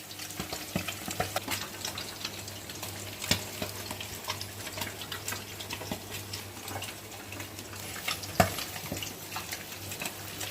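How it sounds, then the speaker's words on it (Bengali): Katla fish pieces fry in a pan at home, a steady low sizzle broken by occasional louder spits and pops, with a faint constant hum beneath. "এখানে মাছটা ভাজছি"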